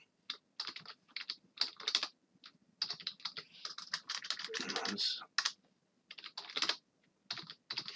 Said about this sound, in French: Donc je tape Oracle Java